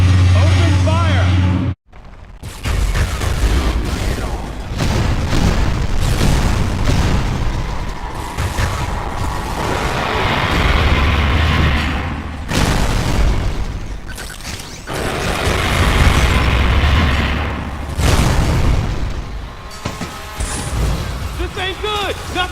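Gunfire and explosions in the Wii game Metroid Other M, with heavy booms and mechanical blasts rolling loudly and almost continuously, over and under intermittent voices talking.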